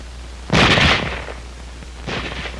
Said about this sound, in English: It can fire only as fast as a man can open and close the bolt.